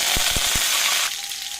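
Mustard seeds, fenugreek, garlic and curry leaves fry in about two tablespoons of sesame oil, giving a loud, close, continuous sizzle with a few quick popping crackles before it eases slightly.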